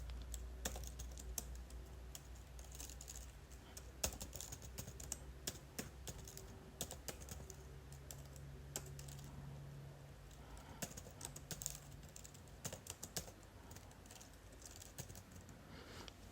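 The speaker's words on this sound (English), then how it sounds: "So I'm going to type in watch AFCON" Steady keyboard typing on a computer while entering a link title, quick irregular key clicks running continuously at close range with a low background hum and no talking.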